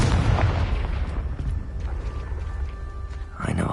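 A Confringo fire spell from Hogwarts Legacy bursts in a loud, booming explosion at the start, its rumble fading over a few seconds before another burst at the end.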